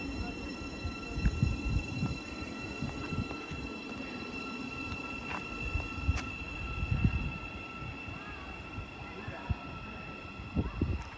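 A train departs Potters Bar station on the East Coast Main Line, a steady rumble of wheels and carriages rolling past with faint high whines and occasional clicks, under a station announcement voice.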